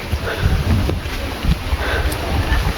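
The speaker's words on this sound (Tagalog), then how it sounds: "Ang lakas ng hangin!" Strong wind buffets the microphone in steady low rumbling gusts, with no clear pauses.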